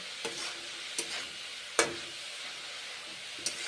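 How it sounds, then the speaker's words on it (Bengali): Winter cabbage curry stirred with a metal spatula in a pan, four sharp scraping strokes spaced apart over a quiet, steady sizzle. "মশলা দিয়েছি তারপরে নেড়ে চেড়ে খুন্তি করে রান্না করছি"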